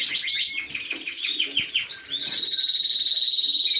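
A small bird held in the hand in an aviary chirps rapidly and close up, a busy run of sharp tweets that settles into a continuous high trill.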